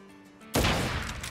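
Shooting at a barrel in the Crisis Core: Reunion video game, a sudden loud burst of gunfire with a blast that decays over a second after a quieter start.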